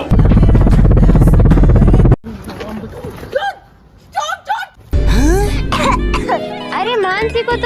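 Cartoon character Mansi coughing, a few short harsh coughs and throat-clearing sounds between bursts of loud cartoon music and bright squeaky effects, with children's voices.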